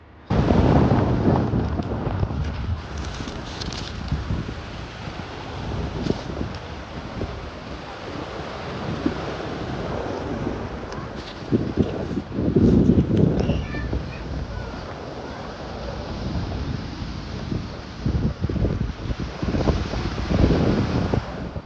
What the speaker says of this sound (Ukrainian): Поїхали на один е, берег острова, побачили океан.